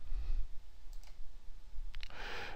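A couple of quick, faint computer mouse clicks around one and two seconds in, with a softer clatter near the end, over quiet room hum and no talking.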